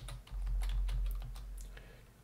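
Brief burst of close computer-keyboard typing as a console command is entered, a quick run of distinct key clicks over a low hum, no talking.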